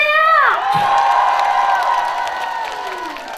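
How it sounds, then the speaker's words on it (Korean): A festival crowd at the Bonghwa sweetfish festival in Korea cheers and claps for a trot singer, with a high whooping shout sliding down at the start over scattered applause that fades gradually. "그럼 박수 한번"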